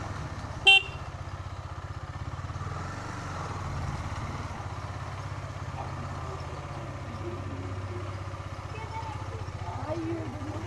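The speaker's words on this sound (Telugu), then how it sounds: "బైక్ ఏంటో సౌండ్ వస్తుంది" A motorcycle on the road between Amalapuram and Kakinada hums with a steady, pulsing engine drone and an odd noise, broken early by one brief, sharp tone.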